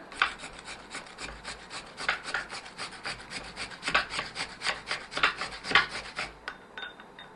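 An ingredient for a homemade face pack being grated, a steady series of rhythmic rasping strokes, close and moderately quiet, with no talking.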